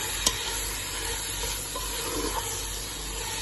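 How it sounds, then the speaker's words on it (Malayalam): Chicken with squeezed lemon juice is stirred in a cooking pot for pulao, a soft continuous sizzle with a few faint scraping and clinking touches and one sharp click near the start, no voices. "ഇളക്കി കൊടുക്കണം."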